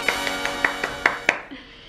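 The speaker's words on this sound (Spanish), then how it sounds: "Un aplauso," Applause for children: a short run of about seven evenly spaced hand claps, fairly close and crisp, over a faint sustained tone before it fades out.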